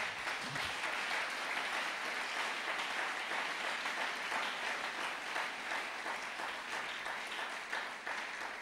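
A church congregation applauds continuously and loudly throughout, a dense, steady wash of clapping hands filling the room at a worship service.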